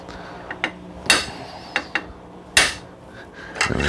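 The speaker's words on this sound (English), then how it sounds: "We're going to give it a good series of sharp taps. Matter of fact, we're going to go to a little heavier hammer" Sharp hammer taps on a metal tab inside a Model 1938 Red Ryder Carbine air rifle while an abutment washer is reseated: about half a dozen crisp, close metallic strikes at irregular intervals with quiet pauses between them.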